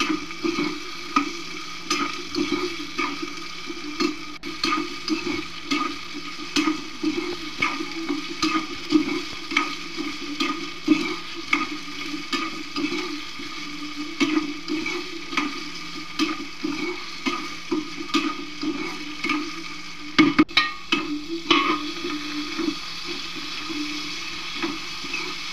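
Chopped tomatoes stirred into frying potatoes and chili in a pan for sabudana khichdi make a steady sizzle broken by repeated scraping strokes of the spoon, close and fairly quiet, with no talk.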